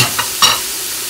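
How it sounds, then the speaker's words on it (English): Frozen chopped peppers stirred inside an Instant Pot, giving two short scraping swishes with a faint sizzle beneath, the second louder than the first, close by and with no voices. "Going to give those a quick stir."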